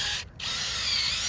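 A power drill boring down into tree stump roots with a long bit, a loud steady whine that briefly cuts out near the start, then resumes and runs on close up.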